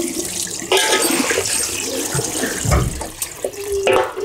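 Cold tap water splashes and runs into a sink while a bowl and fabric trousers are rinsed, with continuous gushing broken by uneven sloshes and handling noises, close by and fairly loud.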